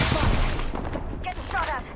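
Gunfire in the video game Dead Space, a dense loud spray of shots across the whole moment with a voice talking briefly over it.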